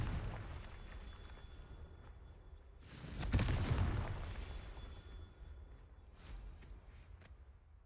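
A Confringo explosion spell in a Harry Potter video game: a single heavy fiery blast with a deep rumbling body that swells, then fades into a softer crackling tail over a low ambient game bed.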